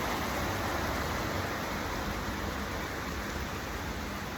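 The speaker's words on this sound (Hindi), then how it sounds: "बहुत तेज बारिश आ गई है।" Heavy rain pours down in a dense, unbroken hiss that holds at a constant loud level throughout, with no voices over it.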